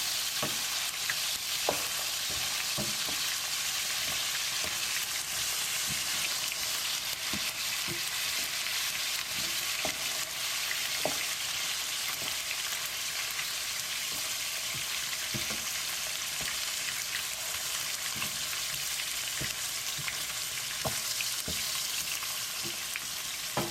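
Potatoes fry with a pinch of asafoetida in hot oil in a pan, giving a steady, close sizzle throughout with occasional light stirring clicks and no voices.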